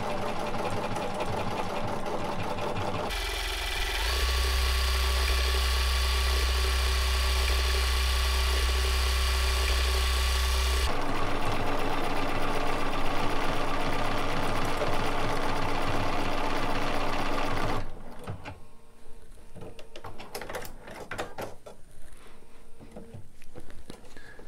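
A Bernina 790 Plus sewing machine stitches wide, large stitches, moving the fabric side to side with a steady, loud mechanical whir and hum that shifts in pitch partway through, then drops to a quieter rattle near the end.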